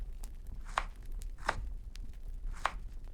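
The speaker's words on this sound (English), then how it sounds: "Cut the meat." A knife chops meat in the Cucina Stellata cooking video game: three sharp, separate chops at an uneven pace, close and clear over a low background hum, with no talking.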